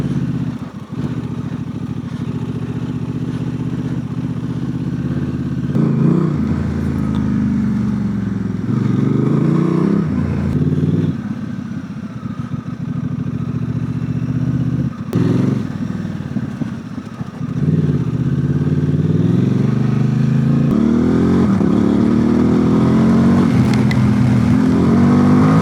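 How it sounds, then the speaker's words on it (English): A motorcycle is ridden on a January day, its engine droning steadily and then repeatedly revving up and easing off in several swells, with wind and road noise throughout. "Third day of January and I'm able to ride the bike."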